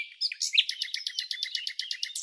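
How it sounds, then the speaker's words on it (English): A hoopoe in the Moroccan wild gives a bright, rapid series of repeated call notes, close and clear, pulsing evenly for about two seconds with no other sound around it. "Now get ready to meet a bird so unique. Even its name sounds like a punchline. The hoopoe."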